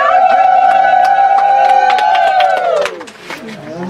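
Applause from the gathering at the opening ceremony of St. Titus Kiwalwa Vicarage, quick claps running beneath loud sustained ululating cheers that drop off near the end.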